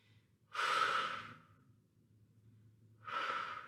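Two deep breaths during a resistance training workout, each a strong airy exhale rushing out close to the mic, with a quiet pause between them and no talking.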